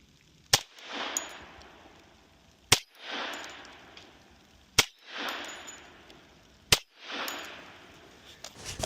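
Four sharp 10mm carbine shots at a 10-yard indoor range, fired with shape-charge rounds from a pistol-caliber carbine, each loud crack followed by a short decaying echo, spaced about two seconds apart with no talk.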